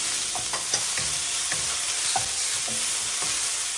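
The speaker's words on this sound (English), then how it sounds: "And into the wok, I'm going to add the onions, green onions" Onions and green onions hit smoking-hot oil in a wok, a loud, steady sizzle and crackle with light stirring scrapes and no talking.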